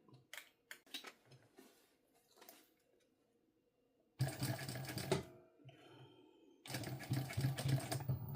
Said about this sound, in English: So now I'm gonna top stitch